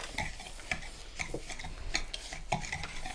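A whisk stirring brown sugar, cornstarch, salt and cinnamon together in a bowl; quiet, steady scraping strokes with light clicks at a regular rhythm, close by and alone.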